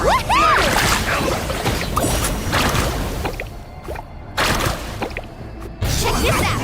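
Surfboard carving across water waves in the Genshin Impact video game, loud rushing swooshes and splashy water bursts with bright game effects, dipping briefly before surging again.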